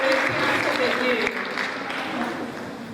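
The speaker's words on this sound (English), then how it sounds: "Please applaud them for every answer they gave" An audience at a Hindu culture quiz event in Kenya gives a steady wash of clapping that dips partway and continues at a lower level, with voices talking over it.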